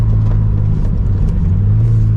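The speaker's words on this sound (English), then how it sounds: "We got bumps in this road, so I'm trying to get over all of those." A Toyota GR86 engine rumbles steadily from inside the cabin, low and loud, with faint thumps as the car rolls over a bumpy road.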